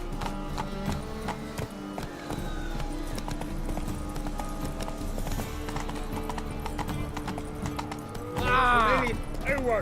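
Roach the horse galloping in The Witcher 3, a rapid, steady clip-clop of hooves up close throughout, with spoken dialogue over it and a whinny near the end.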